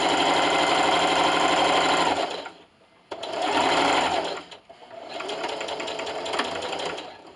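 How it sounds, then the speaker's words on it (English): A sewing machine runs a loud, close straight stitch in three sustained bursts separated by short pauses, the whir steady within each run, as fabric for an Easter carrot treat bag is sewn and backstitched. "I'm going to sew until I get to my first mark and backstitch."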